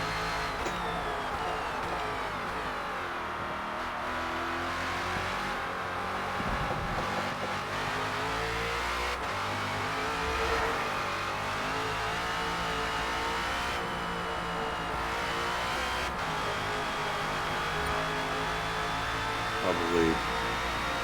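A #17 Ford Falcon FG X race car at Road Atlanta in Forza Motorsport drones and revs continuously, its engine pitch rising and falling through gear changes, with brief tire squeal and no talk over it.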